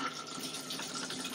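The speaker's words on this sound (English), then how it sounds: "press your flush" A motorhome toilet flushes with a steady rush of running water, fairly faint and close, continuing evenly for the whole moment without any speech.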